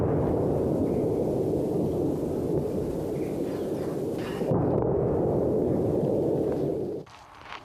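Continuous artillery shelling in a war zone in the Donbas region of Ukraine: a steady, loud rumbling roar of explosions that goes on for several seconds, then drops suddenly to a quieter background near the end, with no talking.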